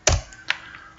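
A few light taps on a computer keyboard while a program is typed: one sharp keystroke, then a softer one half a second later, close and quiet with no voices.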